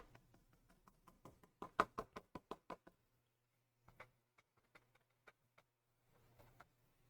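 Folded paper being knocked to shake out model-car flocking: a quick run of sharp, close taps that build to loud raps, a pause, then scattered softer knocks, with no talking.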